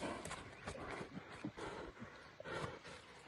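A very large horse offered for sale moves about nearby. Quiet, irregular hoof thuds and shuffling sounds rise and fall, fairly soft overall, with no speech.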